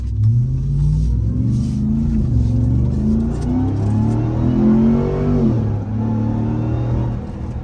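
A Ram TRX truck engine revs and accelerates at night, its supercharger giving a steady rising whine over a deep rumbling exhaust, loud and close, with no voices.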